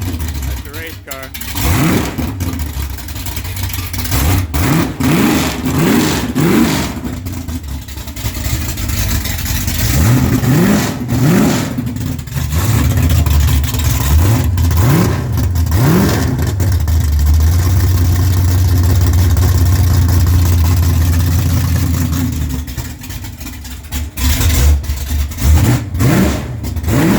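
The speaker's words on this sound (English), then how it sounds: "he wants to start it up open headers" A Chevy 355 V8 race car on open headers fires up cold and is revved repeatedly, loud close engine bursts rising and falling over a rough lumpy idle, with people talking over it.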